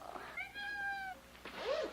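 A cat gives two clear meows, the first drawn out and the second shorter and rising, close and distinct over a faint room background.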